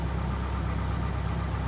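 An aircraft engine idling with the throttle set to 1000 RPM gives a steady, continuous low drone with a rough, even rumble. It sounds close and constant, with no voices.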